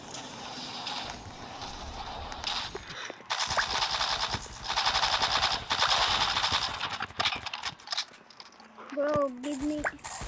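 Bursts of automatic gunfire in a shooting video game, long loud rattling volleys with short gaps, and excited talk breaking in near the end.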